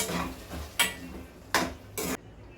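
A spoon scrapes and clinks against a cooking pan as curd is stirred into roasting spices, three sharp metallic knocks over a low background sizzle, close by with no talking.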